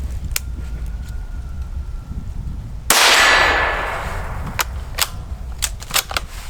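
A suppressed .22 Magnum (WMR) rifle fires a single sharp crack at a distant steel silhouette target, followed by a ringing metallic clang that fades over about a second, with a few faint taps and clicks around it.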